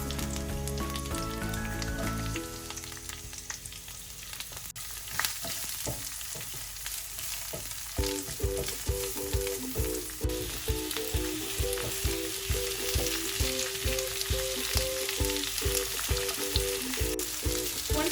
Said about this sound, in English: When the basil starts sizzling like this